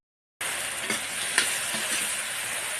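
Small mirika fish fry in hot oil, a steady, dense sizzle that starts abruptly after a brief silence and holds evenly, close and fairly loud.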